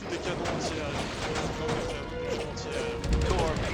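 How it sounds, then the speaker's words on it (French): Booming torpedo detonations and crashing impacts from the video game Heroes of the Pacific on PS2 rumble under someone talking, with a heavier thud near the end. "Torpedo detonation."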